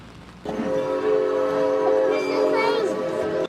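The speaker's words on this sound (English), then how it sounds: "As Christmas season rolls around once again, so do the model trains of the annual Sound and Light Show at the Model Railroad Club." Model trains run on a model railroad club layout during a Christmas sound and light show, starting with a sustained horn-like whistle tone over a low rolling rumble that holds steady for about three seconds, fairly near.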